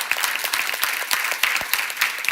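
A church congregation claps together during a worship service, a steady run of quick hand claps filling the room for a couple of seconds with no talk over it.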